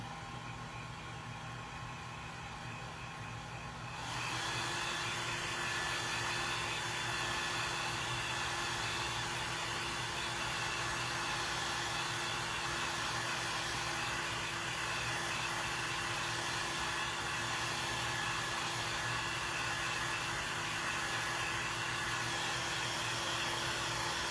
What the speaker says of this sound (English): I'm going to dry these and then we'll add some greenery.